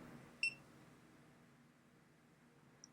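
A GoPro Hero action camera gives a single short, faint electronic beep, then a quieter tiny blip near the end, over a low hum of room noise.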